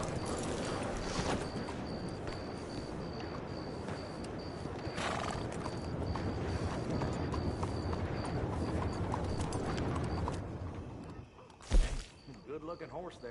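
Horse hooves clip-clop steadily in Red Dead Redemption 2 and a horse whinnies, with background music throughout and a brief louder thump near the end.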